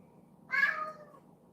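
A pet cat lets out a single clear meow, fairly close and moderately loud, rising and then trailing off over a low steady room hum.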